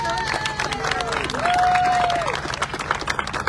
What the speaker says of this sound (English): could you please raise your hand and give them a round of applause